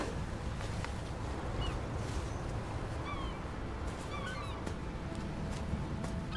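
Several short, thin bird calls chirp out over a steady, dense ambient wash in a seaside setting in the RiME video game, with seagulls heard faintly at mid-distance.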